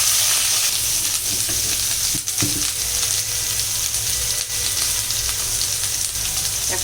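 Onion, nut and coconut paste fries and is stirred in a pan for a prawn malai curry, a steady close sizzle running throughout with a few soft spoon scrapes and no talking.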